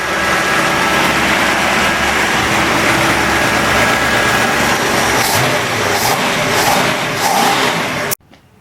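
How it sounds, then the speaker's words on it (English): A loud junkyard V8 engine, not yet tuned, idles steadily up close, with a light rapid tappet ticking running through its rumble, then cuts off abruptly at the end. "Now there is a bit of tappet noise."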